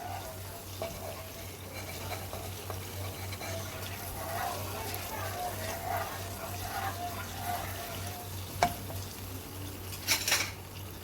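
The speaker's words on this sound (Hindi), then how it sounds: "ये मैं ब्लैक पेपर ऐड कर रही हूँ, इसको आपने अच्छे से मिक्स कर लेना।" Chicken in a pan is stirred with black pepper, giving a steady low frying hiss with soft scraping and a few sharp metallic clinks near the end.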